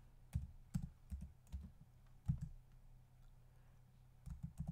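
Keys tapped on a computer keyboard while entering a code: quiet, close clicks in short irregular bursts, a few quick strokes, a pause, then a last flurry.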